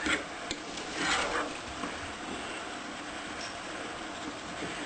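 Spoon scraping and stirring ground hamburger with parsley flakes in a pan, a steady close rasping, rubbing sound that keeps going for several seconds with no talking.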